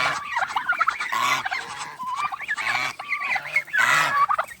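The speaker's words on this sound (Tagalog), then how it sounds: "Yung mga pabo. Saka gansa." A flock of turkeys and geese calls continuously nearby, with overlapping gobbles and nasal honks in bursts.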